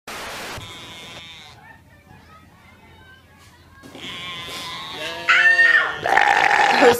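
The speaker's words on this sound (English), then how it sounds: "Those goats are so cute." Goats bleat several times, wavering high cries close by, the later ones louder and overlapping, with faint background murmur.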